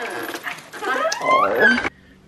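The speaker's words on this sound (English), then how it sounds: "I don't know what he's barking at." A dog close by gives a run of whiny yips and whimpering barks, rising in pitch before cutting off abruptly.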